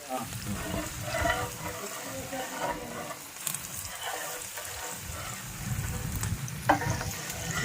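Fish curry masala fries in a pan while being stirred, giving a steady close sizzle with scraping stir strokes and a brief clink, with a faint voice underneath.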